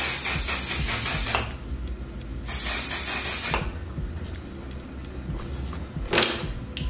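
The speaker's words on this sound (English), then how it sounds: "this is a mattifying setting spray" A mattifying makeup setting spray is misted onto a face in close, hissing bursts: two sprays of about a second each, then a short final puff, with quiet pauses between.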